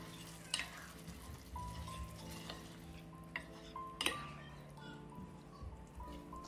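A spoon stirs coconut milk into a green apple curry in a pot, making close, irregular scrapes and sharp clicks against a steady background hum.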